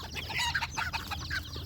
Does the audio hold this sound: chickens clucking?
yes